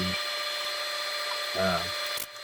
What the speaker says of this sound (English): When I'm finishing the bottom, I just sand down to 320.